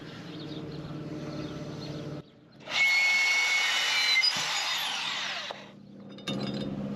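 A bandsaw cuts a metal dipstick tube, whining loudly and steadily for a few seconds after a quieter running stretch, then dropping back to a lower hum.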